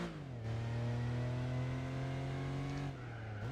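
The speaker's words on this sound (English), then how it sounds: "Hopefully the car sounds a little bit better." A car engine revs up and holds high in the Gran Turismo 4 video game, a loud rising whine that sustains for a few seconds before dropping off.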